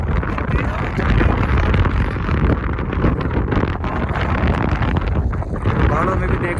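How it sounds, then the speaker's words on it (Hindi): Strong wind buffets the microphone on the snowy Kedarkantha summit during snowfall, a loud continuous roaring rumble that never lets up across the whole stretch. "तेज हवा चल रही"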